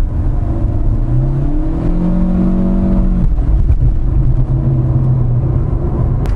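A 2022 Proton Iriz with a CVT accelerates under throttle, its engine droning loudly from inside the cabin with rising tones that climb and reset as simulated shifts occur, then settle into a steadier hum.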